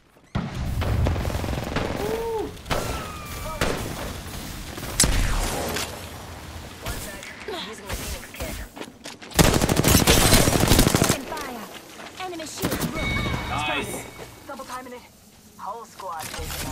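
Rapid automatic gunfire in an Apex Legends match, bursts and single cracks repeating across the span with a dense loud volley in the middle, mixed with game effects and brief voice lines.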